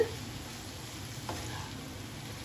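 Brinjal fry being stirred in a nonstick pan, a faint steady sizzle with a single soft scrape of the spatula midway through.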